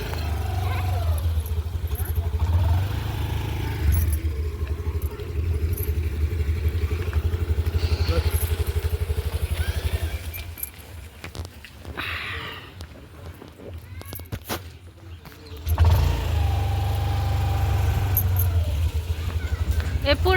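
A car engine idles and runs close by while a vehicle is maneuvered into parking near a temple at Baneshwar, a steady low rumble under people talking, dipping briefly midway before returning.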